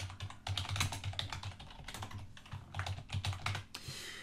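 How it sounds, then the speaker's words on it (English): Someone types an email on a computer keyboard at close range. The clicks come in quick, uneven bursts with short pauses between them, and no one speaks. "and type in my message."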